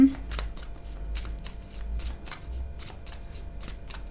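Tarot deck shuffled by hand in a steady run of crisp riffling flicks and card slaps, close and continuous, with a voice speaking softly under it.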